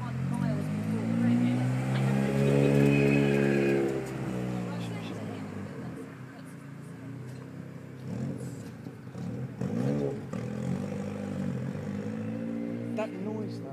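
A very quick, very loud Cosworth-engined car accelerates hard, its howling engine tone climbing, dropping and rising again over several seconds as it pulls away at a moderate distance.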